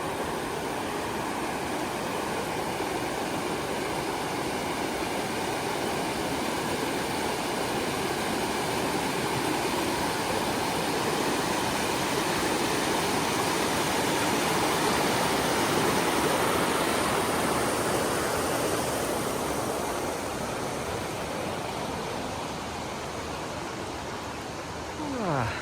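River water flows steadily along an old street in Ise, Mie, a loud continuous rushing wash that holds nearly unchanged throughout.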